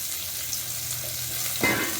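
Garlic and grated coconut sauté in a pan with a little tamarind for a pirandai chutney, producing a steady soft sizzle with one quick stirring scrape near the end.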